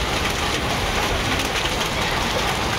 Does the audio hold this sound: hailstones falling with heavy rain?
yes